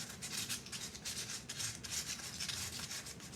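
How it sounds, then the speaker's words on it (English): Sandpaper rubbing by hand on an electric guitar, a green Johnson Strat-style body, giving a steady close scratchy rasp in quick back-and-forth strokes with no talk. "We're going to get some sandpaper."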